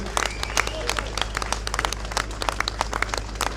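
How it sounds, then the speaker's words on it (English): Audience applauding a woman honored for her work protecting children at a speaking event, steady crowd clapping with sharp individual claps, mixed with a low hum and some background voices. "Can we give this lady a round of applause for all the work that she did?"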